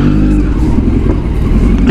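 A superbike engine revs loud and close in a narrow lane, a continuous throaty roar that swells and dips with the throttle, with no voices over it.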